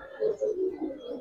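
Giribaz pigeons give a short run of low, rolling coos up close, three or four pulsing notes in quick succession.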